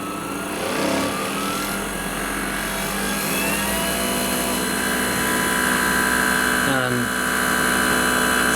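A benchtop jewellery polishing and buffing machine runs at its maximum speed setting with a steady, loud motor whine and hum, and the pitch rises briefly near the end.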